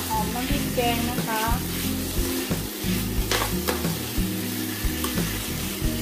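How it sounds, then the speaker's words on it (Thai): Minced pork stir-fries with chili curry paste in a pan: a loud, continuous sizzle broken by repeated scraping and stirring strokes, with a brief voice faintly audible near the start. "ก็เลยเอาหมูลงไปผัดก่อนค่ะ ใส่พริกลงไปค่ะ"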